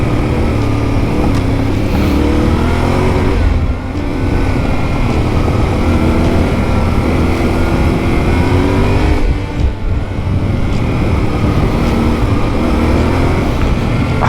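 A loud motor engine drones steadily throughout, revving and surging with rough broadband noise, as a Yamaha Ténéré off-road motorcycle is ridden hard on dirt.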